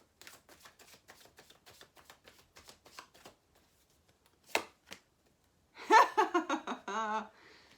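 Romance Angel oracle cards shuffled by hand in a soft, rapid series of light flicks and taps, followed by a short pause and then a voice speaking briefly.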